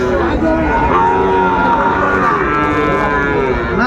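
Loud, drawn-out mooing from cattle, young bulls and heifer calves, at a livestock market in Dinajpur, overlapping calls with a crowd murmuring in the background.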